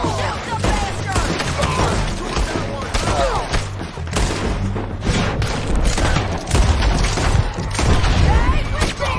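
A dense, continuous volley of gunfire fills a battle in Red Dead Redemption II, with heavy booms and overlapping shots throughout, and voices shouting under the din.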